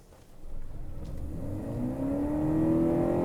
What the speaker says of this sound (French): attention à l'accélération